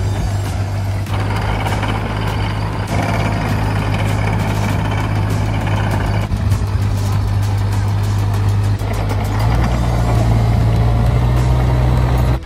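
A 6,500-pound Bobcat 331 excavator engine runs steadily at close range, a loud, continuous diesel drone with a strong low hum and clattering mechanical noise throughout, with no talk.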